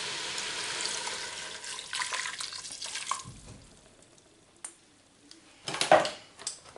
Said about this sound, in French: On va mettre nos 2 verres d'eau